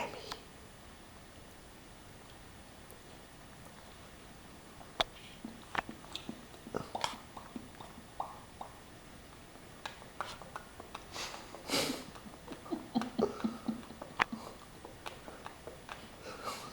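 A small pet rodent chews food up close, with faint, irregular crunching and nibbling clicks that begin after a quiet stretch and come in short bursts over low background hiss.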